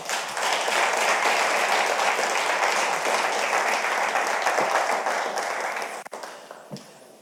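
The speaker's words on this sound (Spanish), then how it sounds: "Démosle un aplauso al Señor." A church congregation applauds during a service with dense, steady clapping that stays loud and close for about six seconds, then breaks off into a few scattered claps.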